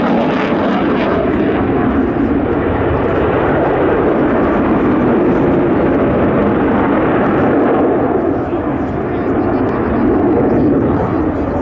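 An airplane flying an aerobatic maneuver at the RAF 100 Cosford Air Show 2018. A loud, steady engine roar fills the whole stretch without a break.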